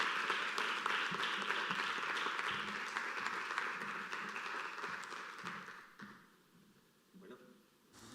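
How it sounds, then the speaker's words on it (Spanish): A literary event audience gives an author a sustained round of applause, a dense wash of clapping that holds steady, then fades away over a few seconds as faint voices take over. "Recibimos, por favor, con un fuerte aplauso a Manel Loureiro."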